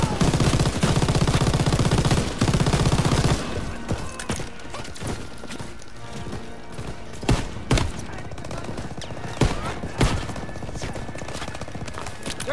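Rapid gunfire in Call of Duty: WWII, a loud dense burst of covering fire for the first few seconds, then scattered shots and impacts over a quieter battle backdrop.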